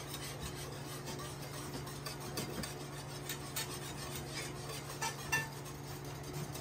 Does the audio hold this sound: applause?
no